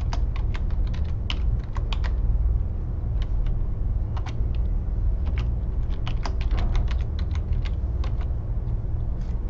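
Steady, rapid clicking of a computer keyboard being typed on, close and fairly loud, with short pauses between bursts and no talking.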